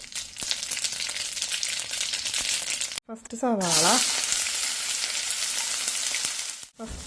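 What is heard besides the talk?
mustard seeds spluttering in hot coconut oil in a pan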